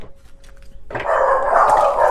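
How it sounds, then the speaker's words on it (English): Several dogs growl and bark at a living room window, a faint growl first and then a burst of loud, sustained barking that continues to the end, with no talk over it. "They're in the living room, growling and barking at the window."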